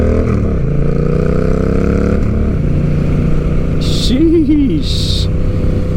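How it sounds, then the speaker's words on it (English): Honda Rebel 1100 fitted with a cheap aftermarket exhaust pulling away at full throttle, a loud, close engine roar that climbs in pitch, drops at a shift and climbs again, with a brief voice over it. "We're gonna go out this way and do a full acceleration so we can see what that sounds like"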